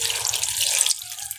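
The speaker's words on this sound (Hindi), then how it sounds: "ये मैं गिलास से पानी डालने लगी हूँ।" Water poured from a glass into a cooking pot while a pumpkin curry is being made, a brief close splash and trickle that cuts off abruptly just before the end.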